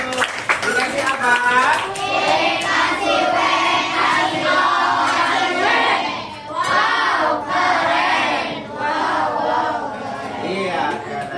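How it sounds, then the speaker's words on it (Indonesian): Children clapping their hands in a classroom after a group presentation, lively rhythmic claps mixed with excited young voices chattering and calling out over the noise. "Mari tepuk tangan dulu."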